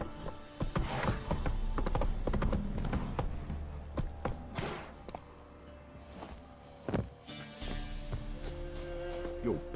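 Roach, a horse in The Witcher 3, runs with clip-clopping hooves through a busy game soundscape, the hoofbeats fairly loud and steady, with a few sharp louder impacts and some faint voices mixed in.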